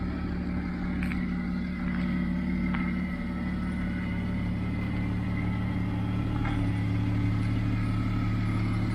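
A 1996 Jaguar XJ6 with a 3.2 engine and an exhaust leak runs steadily nearby, giving a continuous low rumbling drone with an even, unbroken tone and no voices.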